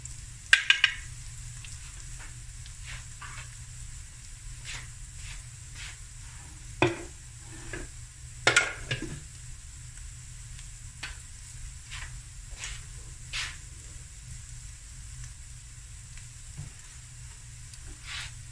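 Spices fry in a pan, turmeric among them, for a sardine and mussel ahkni: a steady, soft sizzle runs throughout, broken by a few brief clinks and scrapes of stirring, with no talking.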